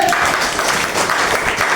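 Loud, steady applause from a class during a Hindi-language Class 9 history lesson on Nazism, a dense clapping wash filling the whole moment without a break.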